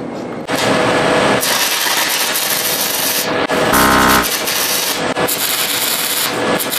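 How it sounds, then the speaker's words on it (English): A small, inexpensive stick welder lays a short pass with a 6010 rod, producing a loud, steady crackling hiss that runs almost continuously, with brief breaks and faint voices under it. "I'm going to just do like a little pass on there"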